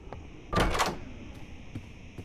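Doors and drawers creak and clunk open inside the Roblox horror game Doors, one loud burst of rattling and scraping followed by a few faint knocks against a steady electronic background hum.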